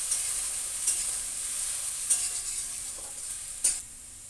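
Green chillies, turmeric and salt fry in a pan for a Bengali egg omelette curry with yogurt, a soft steady sizzle broken by a few sharp scrapes of the spoon as the mixture is stirred, close and quiet with no talking.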